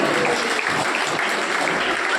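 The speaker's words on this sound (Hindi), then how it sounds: "जोरदार तालियां एक बार भैया बहनों के लिए" Loud, dense clapping from an audience honouring students at a school results gathering, continuous and even from start to finish.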